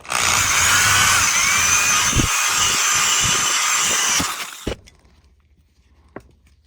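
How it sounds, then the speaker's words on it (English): An electric drill whines loudly and continuously while boring holes in a metal shoulder-lamp mount, with a few knocks during the run, then stops abruptly, leaving near silence broken by a couple of small taps. "all the drill holes are drilled"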